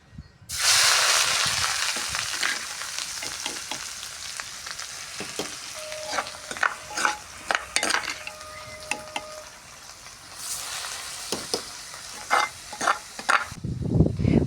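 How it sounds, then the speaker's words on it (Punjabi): Masala roasts in oil in a kadai over an outdoor stove on a windy day for stuffed bitter gourd. A loud sizzle bursts in at once and then eases, broken by repeated sharp scraping and stirring strokes. "ਹੁਣ ਆਪਾਂ ਜੀ ਮਸਾਲਾ ਭੁੰਨ ਲੈਨੇ ਆ"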